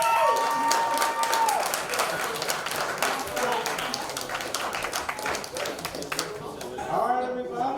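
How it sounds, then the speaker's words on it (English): Crowd applause with cheering and whoops fills a poetry slam venue at the Nuyorican Poets Cafe, dense steady clapping close and loud, with voices shouting over it. "Give up a round of applause for Mania Posa, everybody"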